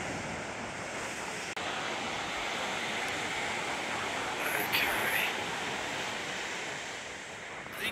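Ocean surf washes steadily onto a beach at night, a constant broad roar with slight swells and faint wind buffeting the microphone.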